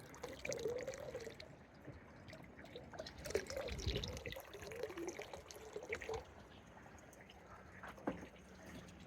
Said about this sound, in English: keep going around your pond with the liquid hydrogen peroxide, and I'm dropping it into the water